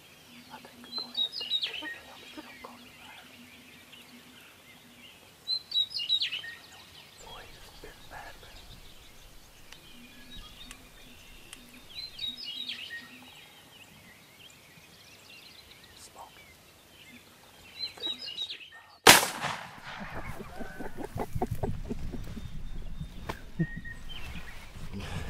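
A wild turkey calling near a strutter decoy during a hunt, with distant gobbling and clucking bursts recurring every few seconds over quiet outdoor ambience, followed by a sudden loud crack and rustling noise.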